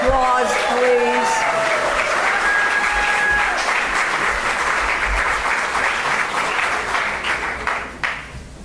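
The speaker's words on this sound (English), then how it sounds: "Would you give him a big round of applause, please?" A crowd at a senator's 2018 re-election victory speech breaks into loud, sustained applause that fades toward the end, with a voice briefly audible at the start.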